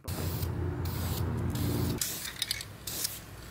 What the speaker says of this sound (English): it's time to apply this primer